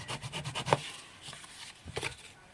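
A bone folder rubs and burnishes craft foil over a soap box, giving soft, close scraping strokes in a quick uneven rhythm, with a couple of sharper rasps partway through.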